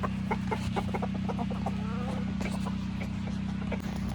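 Hens cluck and squawk in a rapid, busy chatter at close range, wanting a treat, over a steady low machine hum in a woodyard.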